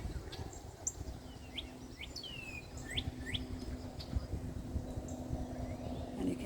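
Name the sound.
bird singing in a garden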